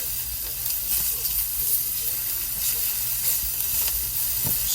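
Peppers sizzle and hiss steadily in a frying pan on a finicky stovetop, starting to char, with occasional stirring scrapes and a low hum beneath.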